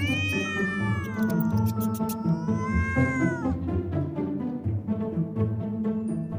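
A cat lets out a long, loud wavering meow that bends up and down, close by over a busy background of film sound.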